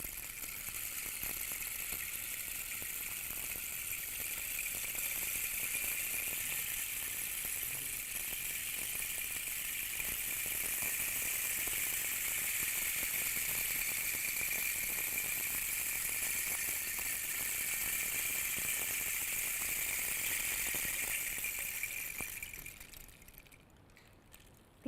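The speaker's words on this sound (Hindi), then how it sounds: "पानी के झरने की आवाज़" A waterfall's steady broadband rush of falling water pours on continuously and evenly for about 23 seconds, then fades away at the end; no voices are heard over it.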